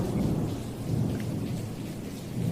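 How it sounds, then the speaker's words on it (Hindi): Heavy Mumbai rain pours down with thunder rumbling low and continuous, forming a dense, loud wash of falling water without any break. "उफ, ये बारिश, मुंबई की बारिश का भी कुछ कहना नहीं है"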